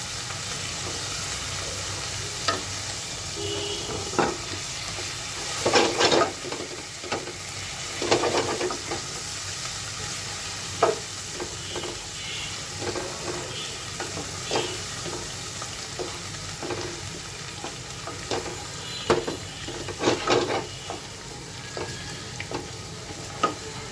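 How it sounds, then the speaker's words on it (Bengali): Fresh river tara baim fish fries in hot oil, giving a steady close sizzle broken by occasional louder crackles and scraping stirs, with no talking. "খুব একটা কিন্তু তেল ছিটছে না একেবারে সুন্দরভাবে এটা ভাজা হচ্ছে"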